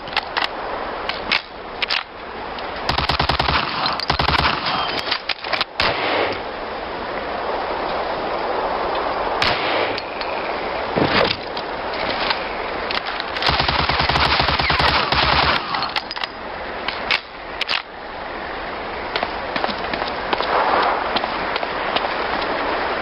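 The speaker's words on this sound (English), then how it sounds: "Shoot that target 20 times with the pistol." Gunfire on a firing range in Medal of Honor: Allied Assault, loud repeated shots and clatter running steadily throughout with scattered sharp cracks and no speech over it.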